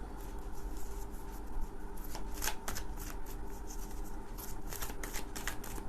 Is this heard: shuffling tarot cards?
yes